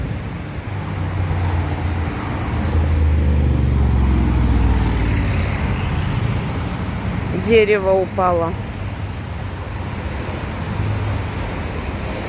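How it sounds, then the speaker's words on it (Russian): Street traffic in Brighton-Le-Sands on Botany Bay, Australia, sounds as a low rumble of passing cars that swells and fades. A brief voice speaks over the steady outdoor background. "я смотрю то, что очень много машин сейчас на улице"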